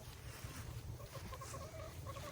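Chickens on a farm cluck softly at feeding time, a faint scatter of short repeated clucks over a low background rumble.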